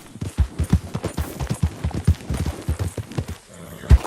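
Horse galloping in Red Dead Redemption 2, a steady rhythmic clip-clop of hooves close by and moderately loud, continuing for several seconds with a brief pause near the end.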